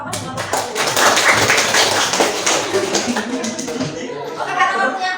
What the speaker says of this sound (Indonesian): Tepuk tangan untuk kelompok 4 dan kelompok